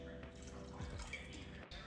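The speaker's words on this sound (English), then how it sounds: "along with some vinegar, just a splash." A splash of vinegar poured into a pot of chicken fricassee, a quiet dripping trickle up close, faint and brief, fading out near the end.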